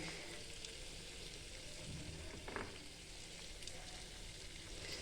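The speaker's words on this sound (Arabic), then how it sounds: "صافي وغادي نخلطو معاه مزيان ونخليه يتقلى معاه واحد شويه" Brains fry with onion and spices in a pan, giving a steady, close sizzle with a faint stirring scrape partway through, soft and continuous, with no talk.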